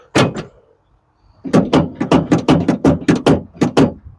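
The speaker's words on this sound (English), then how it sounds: "Okay, unlock the door." Door lock on a 1985 Chevrolet Caprice estate wagon with a faulty lock mechanism: one sharp click, a short silence, then a rapid series of about a dozen loud, close mechanical clacks.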